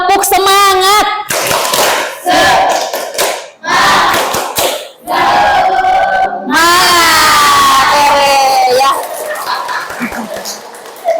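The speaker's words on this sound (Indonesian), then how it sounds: "Tepuk semangat." An Indonesian classroom does a rhythmic spirit-clap routine, bursts of sharp group clapping in patterned beats. Children's voices chant loudly between and over the clapping, with short pauses between phrases.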